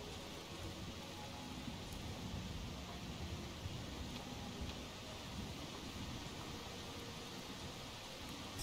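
Steady rain in the Darkwood game world falls as a dense, even hiss with low rumbling texture, holding at a constant level throughout and joined by no talk.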